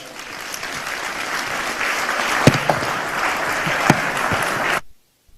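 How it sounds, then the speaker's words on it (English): Audience applause after a technology presentation, a sustained, loud crowd clapping that builds slightly, with a few sharper claps standing out, before cutting off abruptly into silence. "A round of applause for the Kadist evangelist, Stopoku Efriye Asante"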